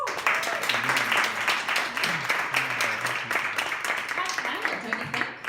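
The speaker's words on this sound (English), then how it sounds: "So let's give her applause." Audience applause at a women-in-tech panel event, a steady patter of clapping heard under a speaking voice that continues over it throughout.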